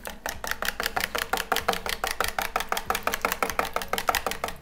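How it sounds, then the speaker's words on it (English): Strawberry cake batter of sour cream, milk and eggs whisked briskly in a bowl, a fast, even run of close rhythmic taps and swishes with no talking. "All right, now we're gonna whisk all this together."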